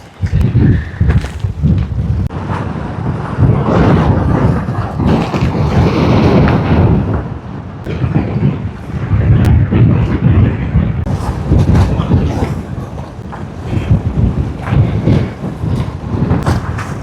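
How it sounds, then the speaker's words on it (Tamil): Strong cyclone wind blows in Karainagar near Jaffna during flooding rains, roaring and buffeting the microphone in loud, surging gusts, with sea-like rushing underneath and no speech. "ஆனால் வர வர காற்று அவ்வளோ சரியாக கூடிக்கொண்டு இருக்குது காற்று."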